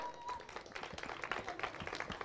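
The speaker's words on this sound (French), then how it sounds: "J'ai besoin également d'un tonnerre d'applaudissements une fois de plus pour Romario" Audience applause for a performer at a French spoken-word show, a fairly dense patter of clapping heard at a distance and quite faint, continuing evenly without a break.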